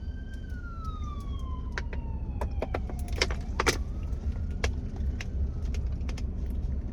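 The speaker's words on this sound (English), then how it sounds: "We'll let the police go by." A police siren wails at a distance, its pitch sliding down as it passes, over a steady traffic rumble with scattered clicks and clatters.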